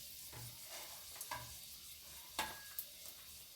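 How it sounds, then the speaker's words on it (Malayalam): A single dried red chili dropped into hot oil with popped mustard seeds, a steady soft sizzle with a few sharp crackles and spoon scrapes, close and fairly quiet with no talking. "പിന്നെ കടുക് പൊട്ടി ഞാൻ ഒരു വത്തലമുളക് ഇട്ട് കൊടുക്കുവാണ്"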